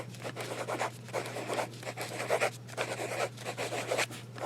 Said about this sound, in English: just for fun, some fast writing again, because this nib is so lovely